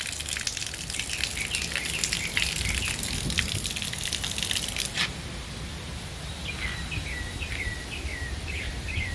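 Water gushing steadily from an outdoor shower at a beach home in Progreso, a constant broadband hiss with irregular splashing, plus birds chirping and insects in the background.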